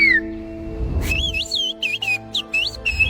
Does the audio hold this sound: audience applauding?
no